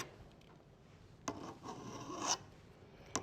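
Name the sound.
sharpening a garden tool blade with a file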